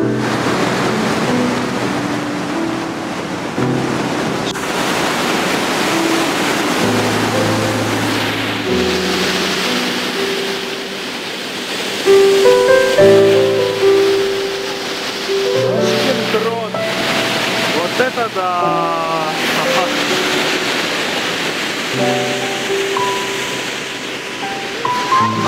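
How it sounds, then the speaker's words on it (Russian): A rushing mountain river in Norway, a steady, loud broadband roar throughout, with people talking and tonal voice-like sounds at times over the water. "Горная река."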